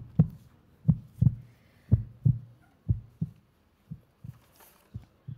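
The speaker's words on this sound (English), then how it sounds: "Okay, we are hearing to the heartbeats now." A heartbeat sound effect thumps in steady paired beats, about a dozen low dull pulses over several seconds, fading somewhat toward the end, heard alone with no talk.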